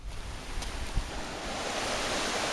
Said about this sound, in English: A bridge over the creek, I'll show you the creek there.